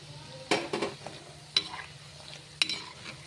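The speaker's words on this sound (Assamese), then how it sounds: "এনেকৈ মই গোটেইখিনি ভাজি ল'ম আৰু দেখুৱাই নাথাকোঁ" Nimki, crisp Assamese flour snacks, frying in oil and being stirred, with quiet sizzling under a few sharp scrapes and clinks of a utensil against the pan, close up.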